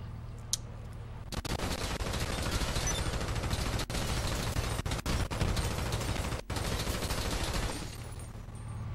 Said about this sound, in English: you first of all have to shoot out all the windows